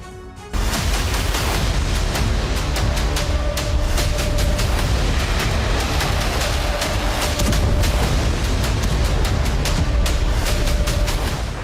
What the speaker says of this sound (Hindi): युद्धाभ्यास में मिसाइलें दागी, दुश्मन की मिसाइलों को गिराने का अभ्यास किया गया।